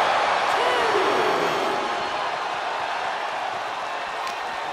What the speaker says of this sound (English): The WWE Universe is showing their appreciation for the action they're seeing.